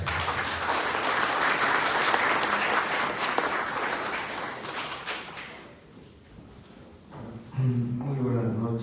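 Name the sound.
strong applause for the rector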